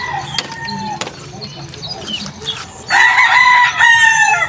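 A rooster on a chicken farm crows loudly and close by near the end, a long harmonic call following earlier scattered clucks and farmyard noise.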